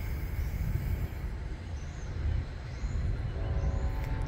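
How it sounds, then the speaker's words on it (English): A train approaches at the Lake Shore Railway Museum in North East, Pennsylvania, as a steady low rumble that fills the whole stretch without any breaks. "Sounds like another train coming behind me."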